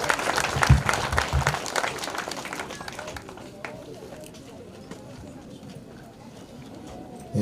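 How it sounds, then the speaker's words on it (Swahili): An audience at a school learning-programme launch in Makueni applauds to welcome a speaker, with loud clapping at first that fades into quiet room noise and faint background sounds. "Tukaribishe Mheshimiwa kwa makofi"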